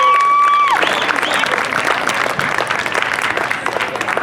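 A crowd applauds a college mountain bike team honoured for finishing third at the national championships, sustained dense clapping filling the room after a brief sustained tone at the start.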